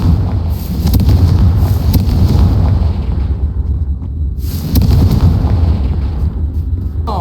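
The Confringo fire spell in Hogwarts Legacy goes off with loud, rumbling blasts and crackling bursts, the roar swelling twice over several seconds with sharp impacts scattered throughout, no voices.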